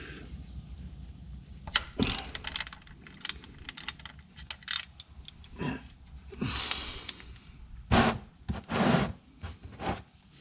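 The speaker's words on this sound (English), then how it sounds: "Go ahead and get this drain plug out of the way. It's a 14 millimeter," A wrench works loose the 14 mm oil drain plug under a 6th-gen Toyota 4Runner, giving scattered metallic ratcheting clicks and clanks at close range, with a few louder knocks and scrapes mixed in and no talking.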